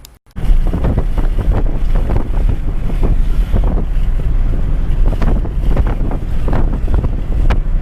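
Strong wind roaring past a moving car, a loud continuous buffeting rush against the microphone with no talking.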